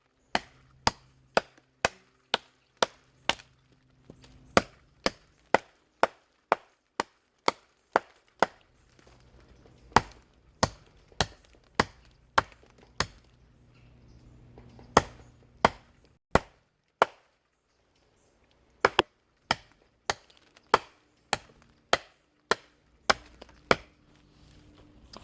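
Rapid, forceful kukri chops bite into dead wood, dozens of crisp close strikes in quick bursts with a few brief pauses, nothing else heard between the blows.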